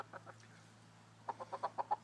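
A hen gives a short series of soft, close clucks in a quiet room, a few faint ones at first, then a rhythmic run of louder clucks.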